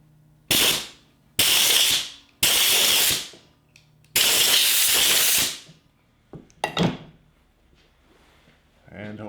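Bursts of compressed air from a nozzle blow metal shavings out of a magnetic nut driver: four loud hissing blasts, the longest over a second, then shorter puffs, close and sharp, with quiet gaps between.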